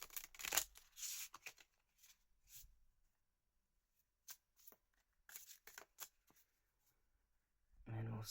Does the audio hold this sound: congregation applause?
no